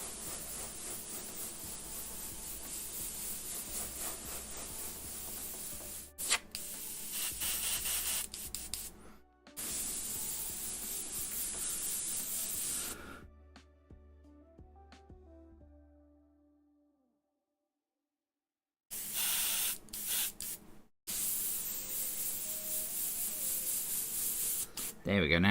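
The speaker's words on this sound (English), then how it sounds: "Yeah, so I can spray on this, that's alright." A spray paint can sprays onto a mask in long, close hissing bursts separated by short pauses, with a longer quiet stretch midway and a few faint tones in the gap.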